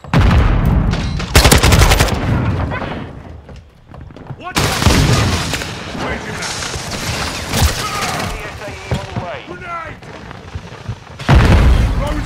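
Call of Duty gunfire rattles in loud bursts of automatic shots and booms, mixed with game effects while players talk over the action.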